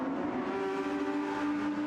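Audi R8 and Porsche race cars lapping Laguna Seca in a sim racing game, their engines a steady, close droning whine held at high revs throughout, with no voices.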